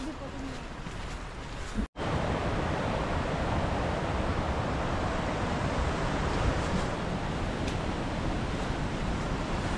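A small waterfall flows on the Netravati Peak trek in Chikkamagaluru, a broad, steady rushing of water heard close and continuous for nearly ten seconds, broken once by a brief dropout.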